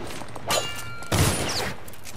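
Two sharp gunshots in the video game Dishonored, about half a second apart, the second louder with a short echoing tail, with no talk over them.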